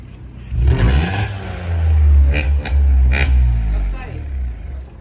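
A Yamaha RXZ two-stroke motorcycle engine revs close by in loud, rising bursts with a raspy, buzzing edge. The throttle blips a few times, and voices sound faintly under it.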